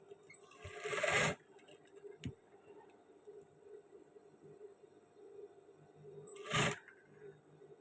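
Sewing machine stitching a men's shirt sleeve, running in a quiet, steady mechanical whir with faint ticking, broken by two louder bursts of handling noise near the start and end.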